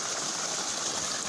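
Water gushing from a 110 mm hose fed by a long-distance CNS water pump, a steady, dense rushing hiss heard close and continuously for a brief moment, with no voices.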